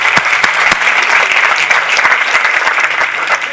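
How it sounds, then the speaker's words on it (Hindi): Congregation applauding at a Christian church service, dense steady clapping filling the room at close range, with no talk over it. "आइए इस बहन के लिए ताली बजाएं।"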